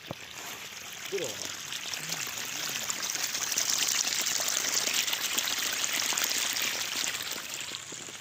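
Water running from the 2-inch outlet of a 900W BLDC solar pump on farmland, a steady broadband rush and splash that builds slightly and holds throughout, with a faint voice in the background early on.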